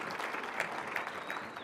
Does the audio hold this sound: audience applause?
yes